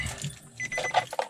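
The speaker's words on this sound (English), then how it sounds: "Gotta find the key. So many keys." A bunch of keys jangles briefly and softly up close, a short metallic rattle with a couple of brighter clinks.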